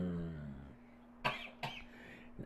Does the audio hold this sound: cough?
yes